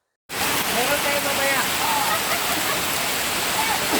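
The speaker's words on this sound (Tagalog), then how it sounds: "Lalo na umuulan ngayon" Steady rain falls near a river, a dense continuous hiss of rushing water that starts abruptly and stays loud and even throughout.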